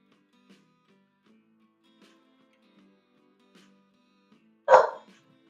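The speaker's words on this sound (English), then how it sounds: "Then I have as well the dog making some barking at the background" A single dog gives one short, sharp bark near the end, moderately close in a quiet home where children play with Lego, after several faint soft clicks and knocks.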